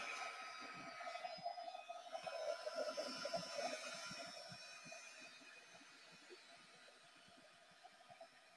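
Heat gun blowing on craft resist paint, a faint steady whirring hum with a whining tone that swells briefly early on, then fades a little and holds alone without speech.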